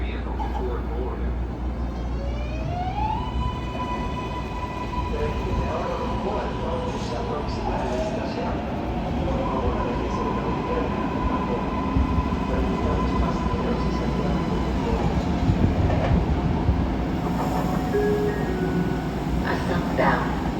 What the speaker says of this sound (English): A northbound, Gold Line train is approaching the station